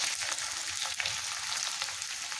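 Onions fry in hot oil for chili chicken fried rice, giving a steady, close, dense sizzle with small crackling pops throughout and no talking.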